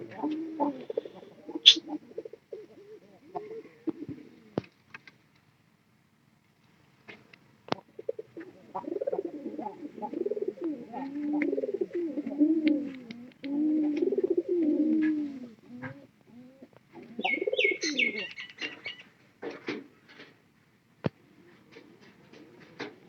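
Pigeons coo in repeated low, rolling phrases at close range, several overlapping bursts with short pauses between them, with a few scattered clicks and a brief chirp.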